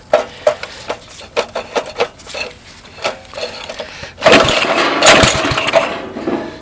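A 5HP Path Winder go-kart engine putt-putting, with a string of uneven sputtering pulses that give way to a louder, rougher burst of running, close by and with no talking.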